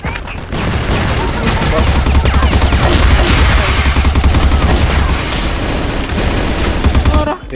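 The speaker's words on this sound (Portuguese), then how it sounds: "Alguém, tá aqui fora dando tiro pra caralho" Loud, rapid bursts of gunfire in a video game roll almost without a break, with heavy booming shots and low rumble underneath.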